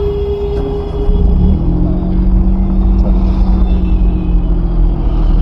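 A manual car engine cranks and catches about a second in, then runs as a steady, loud, low rumbling idle close by, with no talking.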